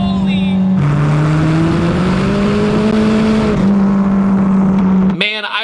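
A Dodge Omni GLH engine revs loud and close, its steady drone climbing in pitch, holding, then dropping back to a lower idle before cutting off abruptly near the end.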